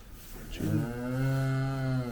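An Angus cow on a farm with calves gives one long, deep moo, close and clear against faint outdoor background.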